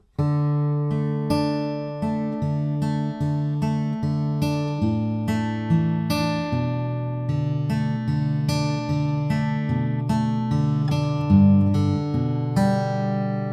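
An acoustic guitar fingerpicks the verse of a song, a steady, ringing pattern of single notes over low bass tones, continuous and evenly paced with no voices.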